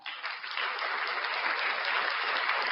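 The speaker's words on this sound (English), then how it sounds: "Round of applause for you guys." A crowd of fans breaks into a round of applause, the clapping swelling quickly into a steady, full-band roar that holds at even loudness, sounding somewhat compressed.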